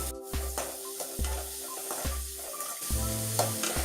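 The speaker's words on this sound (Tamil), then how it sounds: "வெங்காயத்தை நல்லா வதக்கிக்கலாம்." Small onions and chopped garlic sautéing in oil with mustard seeds give a strong close sizzle, broken by several rhythmic scraping stirs of a spoon across the pan, with no voices.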